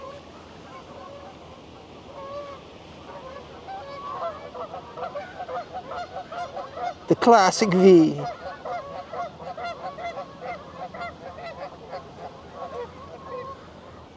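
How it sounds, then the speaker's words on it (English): Canada geese honking in flight overhead, a scattered run of honks rising to a loud close burst of several calls midway, then fading, with brief outdoor talk. "Canada geese."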